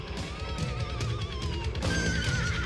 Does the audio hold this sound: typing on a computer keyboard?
no